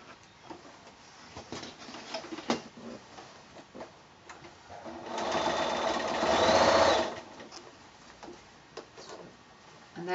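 Sewing machine quilting a row on a shoulder bag: a close, rapid stitching burst lasting about two seconds in the middle, with small handling clicks and ticks before and after.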